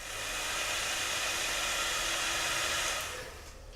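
A hair dryer blows steadily at close range while drying layered paint on a dial, a constant broadband whoosh that cuts off just before the end.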